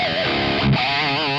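A high-gain distorted electric guitar through a Quad Cortex running a Highland Direwolf capture: a short, thick, saturated burst of notes, loud and close, with no talking.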